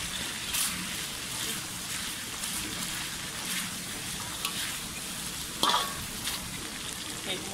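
Chili being stirred in a sizzling pan while cooking spicy oyster-sauce chicken: a steady, close frying hiss runs throughout, with a few brief scraping clinks of the utensil near the end.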